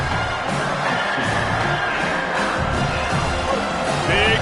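Football stadium crowd cheering for the defense on a big third down at a Texas A&M versus South Carolina game, a steady, loud roar that swells slightly near the end.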